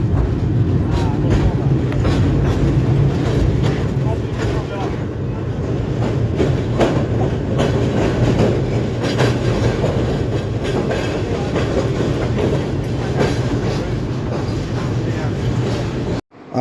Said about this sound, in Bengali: বর্তমানে আমাদের ট্রেনটি কুশিয়ারা ব্রিজ পার হচ্ছে।